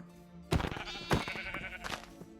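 Sheep in a modded Minecraft world bleat several times in quick succession, close and fairly loud, with no talking over them.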